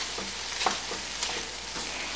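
Shrimp and garlic sauté in a floured pan, a steady bright sizzle with the soft scrape of a spatula stirring across the bottom every half second or so, close and fairly quiet.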